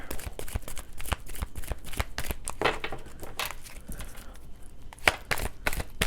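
Tarot cards are shuffled by hand, a close, continuous riffle of rapid paper flicks and snaps with brief gaps and one sharper slap near the end.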